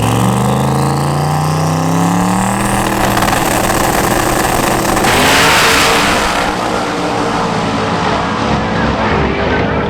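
Drag race car roaring down the strip on its last run during Drag Week, a loud, sustained engine blast with rising revs that fills the whole clip, close and overpowering.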